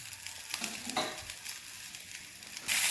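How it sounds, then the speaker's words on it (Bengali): An uttapam sizzles and fries steadily in a pan after being flipped, a continuous close crackling hiss with a brief louder scrape near the end. "এবার এটাকে উল্টে নিয়ে আর এক পিঠটা ভালো করে ভেজে"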